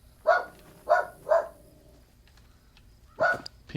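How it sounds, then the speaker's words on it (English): A dog barks three times in quick succession at mid distance, reacting to someone moving upstairs, then falls quiet before a single further bark near the end. "My dog hears somebody upstairs."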